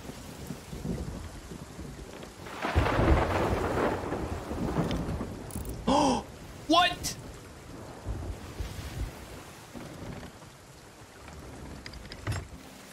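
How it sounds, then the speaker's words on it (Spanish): A thunderstorm with rain and rough sea rumbles in the Sea of Thieves pirate game, with a broad roll of thunder, steady wind and water wash, and some brief sharp tonal bursts partway through. "qué lindo que se haya ido la tormenta"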